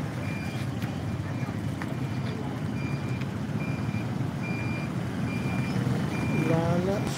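A truck backing up gives off a steady series of evenly spaced reversing beeps at moderate distance, over a continuous rumble of road and engine noise along a provincial street in Polomolok.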